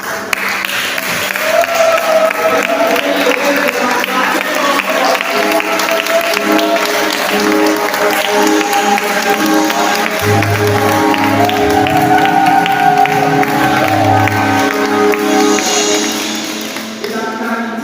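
A church congregation at a worship service applauds and cheers to acclaim a king, with sustained clapping and shouts blending with music and voices, loud and continuous.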